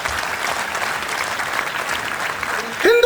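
Clapping from the audience at a Hindi kavi sammelan poetry recital, dense and steady for a few seconds before a voice briefly cuts in at the end.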